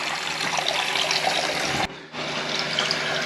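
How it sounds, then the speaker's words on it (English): Water pours steadily into a toilet cistern after the supply is turned on, a close, continuous hiss and gush that breaks off briefly near the middle before resuming, with no talking. "So turn the water on, let it fill up, give it a test."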